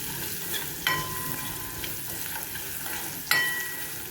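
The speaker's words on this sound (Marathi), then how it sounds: "लसूण घातल्यानंतर थोडं परतून घ्यायचं. थोडा लसूणचा कलर चेंज झाला पाहिजे." Garlic cloves sizzle steadily on low heat in a pan while being cooked for mango raita, a soft continuous frying hiss with a couple of sharper stirring clicks, and no voices.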